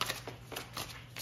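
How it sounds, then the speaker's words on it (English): A deck of tarot cards is shuffled by hand, giving rapid, papery riffling bursts in a quick repeating rhythm, close and clear with no talking. "So I'm just going to shuffle the cards real quick"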